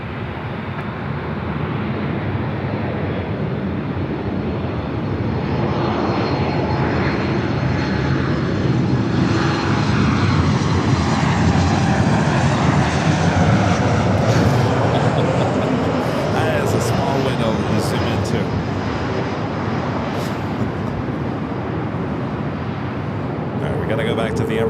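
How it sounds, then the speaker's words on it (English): Emirates Airbus A380 taking off from runway 24 left at Los Angeles International Airport, a loud, steady jet engine roar that builds and holds throughout, with a person talking over it. "Emirates A380 Super already cleared for takeoff at 24 left."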